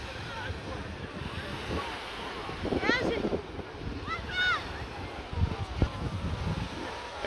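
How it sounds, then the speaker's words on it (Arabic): Gentle sea waves washing onto a calm beach, a steady outdoor wash of surf with wind noise on the microphone and faint voices or bird calls in the background. "هادي البحر اليوم، راه هادي لابلاج هادية اليوم"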